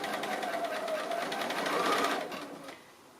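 A sewing machine runs continuously while quilting stitched circles around a tree appliqué, producing a steady, close whirring hum that swells slightly and then slows and fades toward the end.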